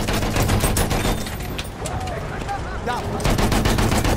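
Rapid machine gun bursts rattle through a Battlefield 1 battle on the Brusilov Offensive map with an assault truck nearby, dense and loud, continuous gunfire with a brief shouted voice mixed in.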